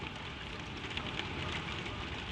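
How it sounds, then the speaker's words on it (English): Gentle rain falls on the cap of a windmill high overhead, a soft, even hiss of fine drops that stays faint and unbroken throughout, with no voices. "the rain is falling gently on the cap of the mill far above your head"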